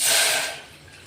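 Water pours from a glass into a pot for cooking corn in a short gushing splash that lasts about half a second, then fades into a faint trickle.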